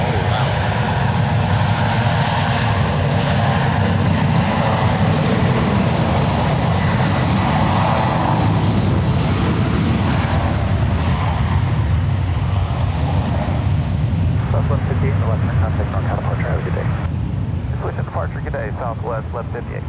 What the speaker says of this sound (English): Southwest Airlines Flight 1158, departing to Burbank. It's a 22-year-old 737-700.